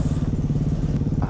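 A motorcycle engine chugs steadily and loud at close range while riding, its pulsing beat continuous with a brief click near the end.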